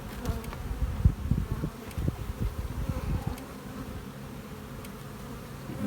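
Honeybees from an overwintered nuc hive in early spring, a soft, close buzzing hum with irregular knocks and handling bumps from frames being moved.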